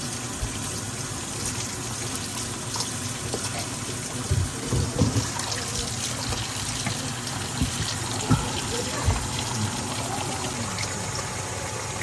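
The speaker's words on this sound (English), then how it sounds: "Ready to wash the pork shoulder." Water from a kitchen tap runs steadily over a pork shoulder being washed, a continuous splashing rush that lasts throughout with small uneven spatters and no voices.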